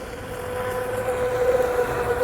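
Proboat Blackjack 2 RC boat running on water with an upgraded propeller, a steady high-pitched motor whine over continuous water and wind noise, holding fairly constant and slightly louder toward the end.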